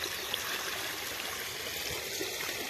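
Steady water flowing and trickling throughout as a dog bathes and plays in water outdoors, a continuous close wash of splashing flow with no clear talk.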